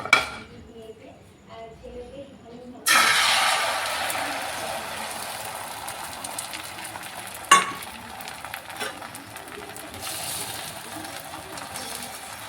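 Rotis fry in a pan with a bright, steady sizzle that bursts in loudly after a quieter start, joined by occasional clinks of utensils and one sharp knock, all close by.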